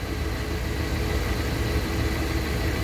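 Car engine idling steadily just after being started following a head gasket replacement, a constant close rumble with no revving and no voices.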